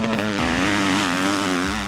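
A 2013 KTM 250 SX-F four-stroke motocross bike engine buzzes loud and close, holding a high, rising rev with a steady raspy whine for about two seconds and no talk.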